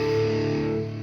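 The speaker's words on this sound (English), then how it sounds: "I can add a lot of distortion" A sustained, heavily distorted electric guitar tone from a Neural DSP Quad Cortex rings out steadily, thick and buzzing, fading slightly at the end.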